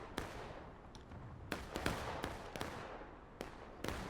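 Scattered musket shots crack out in a Civil War video game battle with about 150 players, some sharp and near, others softer and distant, arriving in irregular bursts with no talk.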